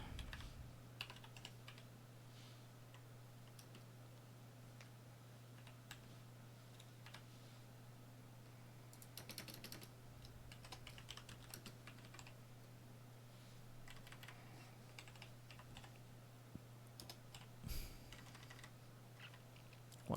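Keystrokes on a computer keyboard tap out in irregular bursts and short pauses, fairly quiet and close, over a low steady electrical hum, with no talking.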